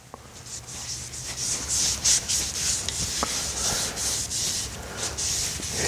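Finish is wiped onto a turned wood piece, a steady, soft cloth-on-wood rubbing that continues without pause, with faint irregular scuffs and a brief louder swipe partway through.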